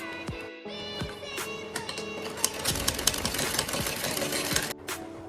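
A sewing machine runs steadily, stitching a folded-in blouse back-neck edge, with a dense, busy mechanical whirr and some brief pauses and bumps near the start.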